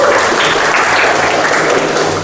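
Students in a vocational high school classroom clap together in a steady, dense round of applause that fills the room evenly for a couple of seconds at close range.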